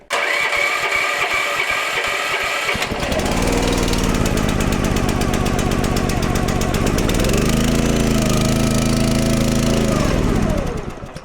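A small engine on firewood gear, left sitting all winter, cranks and catches, then runs loud and steady at close range before cutting out near the end; no voices.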